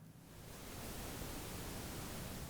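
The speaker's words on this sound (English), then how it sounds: "it's white noise." Broadband tape hiss from the noise module of the Arturia Tape J-37 tape machine emulation plugin, a steady wash of white noise that swells in over the first half second and then holds evenly, soft and alone.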